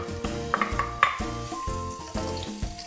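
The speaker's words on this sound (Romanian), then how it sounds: "Am încins uleiul de măsline în această cratiță și voi pune în el la călit ceapa" Onion sizzles in hot olive oil in a saucepan, a steady frying hiss broken by soft clinks and stirring scrapes of a utensil against the pan, with no talking.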